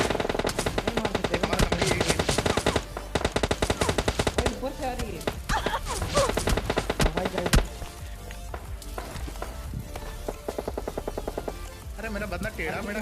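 Dense bursts of automatic gunfire and single shots crackle from several directions in a PUBG Lite battle, loud and nearly continuous for the whole stretch with brief pauses, with a player's voice talking over it.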